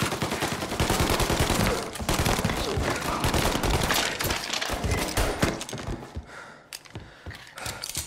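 Rapid, loud gunfire rattles through a shootout in Mafia Definitive Edition, with dense repeated shots packed close together that gradually thin out and grow quieter toward the end.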